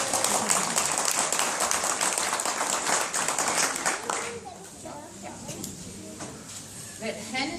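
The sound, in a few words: audience clapping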